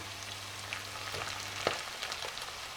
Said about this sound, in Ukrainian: Ну і так тушкуємо наші грибочки, друзі, в сметанці.